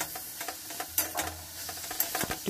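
Pumpkin pieces are stir-fried in a pan with salt, turmeric and a little cumin powder, giving a soft steady sizzle broken by repeated spatula scrapes and knocks against the pan, close up, with no voices.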